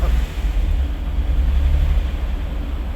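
A 1998 Mitsubishi 3000GT, revived after sitting 12 years, idling a little smoky, a loud, close, steady low rumble with a rough pulsing undertone and wind buffeting across the microphone, no voices.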